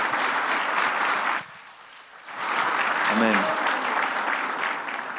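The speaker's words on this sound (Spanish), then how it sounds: "Dale un aplauso a la palabra" Church congregation at a sermon applauds in a dense wash of clapping, which breaks off briefly as a voice speaks a word, then resumes just as strongly.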